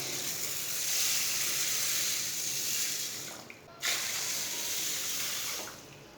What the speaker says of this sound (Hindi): दाल डालेंगे, 2 गिलास पानी डालेंगे।